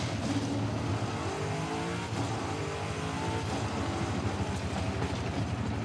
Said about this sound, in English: the understeer does not like that I'm throttling so hard through the turns